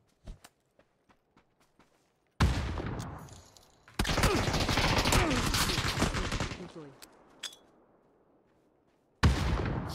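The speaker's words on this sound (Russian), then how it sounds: "У него пулемет!" Game gunfire: a few sparse single shots, then long, loud stretches of rapid machine-gun bursts and heavy battle noise that fade out before another loud burst at the end.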